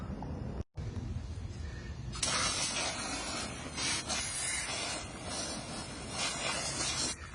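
A steady, hissing spray of foam under a sinking concrete pool deck starts after a brief pause and runs on continuously, loud and close, with slight surges.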